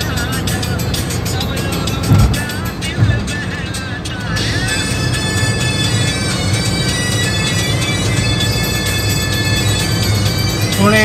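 A car cruising and overtaking at speed on a highway, a loud steady road and engine roar with wind rush and tire noise, a couple of brief thumps, while people talk inside the cabin.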